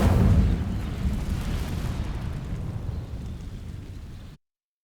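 A fire spell bursts against dry vines in Hogwarts Legacy, opening with a loud whooshing ignition, then a steady crackling roar of flames that slowly fades before cutting off abruptly.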